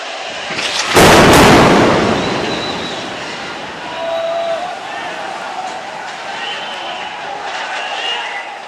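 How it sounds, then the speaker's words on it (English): An Israeli missile strike hits the Al Sharouk Tower in Gaza with one sudden, loud, near blast. A long roaring rumble follows and fades as the tower collapses, with faint distant voices and sirens-like tones afterward. "At least 2 missiles hit the building, the remaining part of the building that was left standing after that first missile strike"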